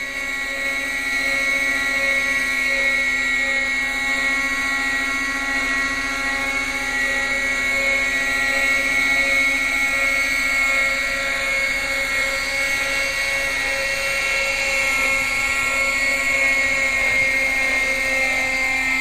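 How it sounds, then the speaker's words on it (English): A Quickie .18 nitro RC helicopter engine drones loud and close for the whole stretch, holding a steady high whine thick with harmonics, its pitch flat and strained as the motor bogs under throttle instead of peaking. "if I give it too much throttle, which is also your pitch curve, the motor's not peaking, it kind of bogs"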